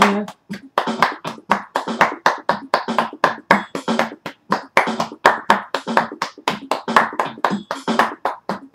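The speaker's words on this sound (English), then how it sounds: "Clap your hands." Hands clapping in a steady, evenly spaced rhythm during an exercise routine, sharp close claps repeating for several seconds.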